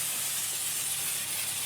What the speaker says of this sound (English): Just spray a pretty healthy dose on there.